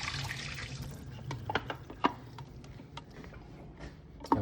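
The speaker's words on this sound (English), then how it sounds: "let's pour out the water from our tank because the film is soaking" Water is poured out of a film developing tank, making a faint, soft trickle and splash with a few sharp drips and clinks of the tank, close by and quiet.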